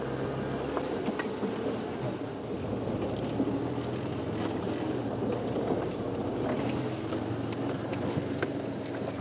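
A safari vehicle's engine runs steadily throughout a live early-morning game drive in the Manyaleti, a constant close rumble with wind buffeting the microphone and no talking.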